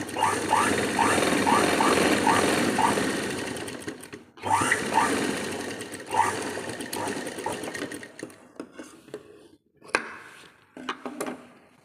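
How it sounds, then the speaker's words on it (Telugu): A sewing machine stitching a blouse with back hooks runs in fast rhythmic bursts, loud and close, pausing briefly, then continues with shorter, intermittent runs. "దీనిపైన మళ్ళీ ఒక టాప్ స్టిచ్"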